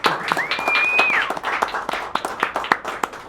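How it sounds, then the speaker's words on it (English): An audience at a local song swap in Longmont claps in a short burst of applause, with a whistle cutting through near the start, the clapping thinning out toward the end. "Big round of applause for Johnny Schober."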